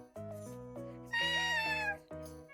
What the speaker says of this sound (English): And his meow also sounds an awful lot like Venti's too.